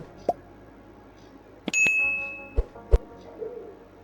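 A bright bell ding rings out with a lingering metallic tone, framed by a few short clicks and taps, with no talking.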